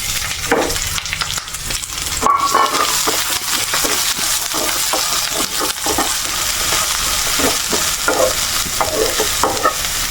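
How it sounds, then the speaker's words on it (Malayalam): Chopped onion sizzling and frying in a pan while a spoon stirs it, a steady close crackle with scraping strokes throughout, no talking. "രണ്ട് സ്പൂൺ സവാള ഇട്ട് കൊടുക്കാം"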